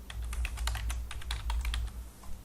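Rapid typing on a computer keyboard, a quick run of close, crisp key clicks over a low background hum, tapering off near the end.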